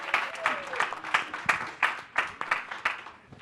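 A small audience claps for Dr. Martine Burt at a fireside chat, individual claps clearly separated in a loose, irregular rhythm, moderately close and fairly quiet.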